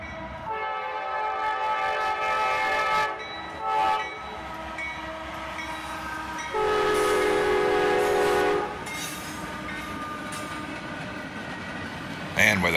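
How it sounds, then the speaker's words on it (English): A freight train with a Canadian National-owned locomotive trailing rolls past, loud and close, with steady rumbling, whistle-like tonal horn blasts and rail clatter throughout. "we catch this train with a Canadian National-owned X-City Rail unit trailing there."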